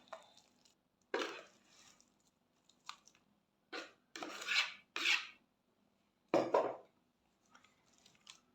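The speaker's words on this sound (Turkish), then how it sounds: "Şimdi kalıbımı getirip içine ilave ediyorum." Batter for an eggless, dairy-free apple cake scraped from a bowl into a baking mold, making close, rasping scrapes in short bursts separated by quiet pauses.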